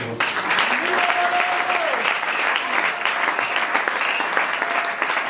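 A crowd at a church marriage gathering claps continuously and loudly for about five seconds, with a few raised voices rising over the applause.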